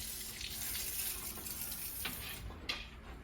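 Water runs steadily from a tap or hose at a dog kennel, a continuous hiss and splash with a faint clink partway through.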